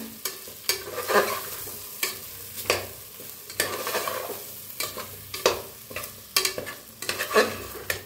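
Spices roasting in a pan, with repeated scraping strokes of a spatula over a continuous close sizzle, steady and rhythmic, no voices.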